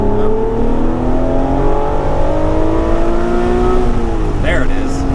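A 2005 Acura NSX-T accelerating hard at a cars and coffee outing, its engine note climbing steadily in pitch through a long, loud, close pull heard from inside, with a brief shift near the end.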